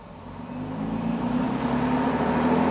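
A bus engine drones steadily while driving, with a low rumbling hum that swells gradually louder over a few seconds, no voices present.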